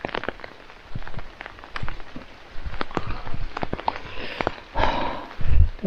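Rain falling in New England woods ahead of Tropical Storm Debby, with scattered close drops striking leaves and surfaces in an irregular patter over a steady soft wash of rainfall.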